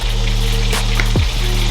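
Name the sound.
chicken wings frying in oil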